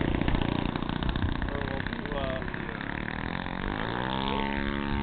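A single-cylinder thumper motorcycle engine pulls hard, its deep throbbing note rising in pitch as it accelerates, with people talking over it throughout.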